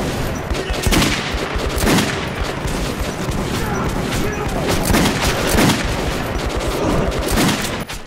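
Pistol shots in Metro 2033 Redux, a run of distinct loud reports spaced about a second apart over a constant rumbling backdrop, with a voice talking over the firing.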